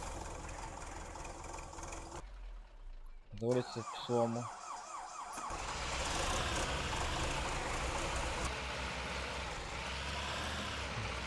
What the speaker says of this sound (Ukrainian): Так, трактор має свій оригінальний звук.